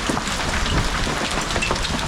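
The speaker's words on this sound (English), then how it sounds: "It's actually raining right now in Reading." Steady, dense rain hisses outdoors during a May hailstorm in Reading, a loud even wash of patter with no voices over it.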